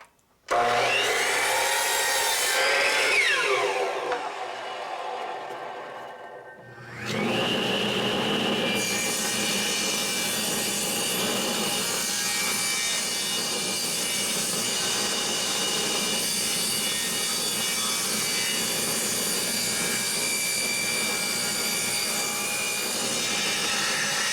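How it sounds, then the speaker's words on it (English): A power saw cuts wooden boards to length, a loud steady broadband whine running almost throughout with a brief lull partway through before the cut resumes, no talking. "I'll cut these to length first, and then I'll rip them down on the table saw to the 2 1/4 width"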